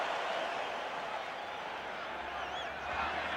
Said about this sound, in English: Wrestled down, brings a roar from the crowd.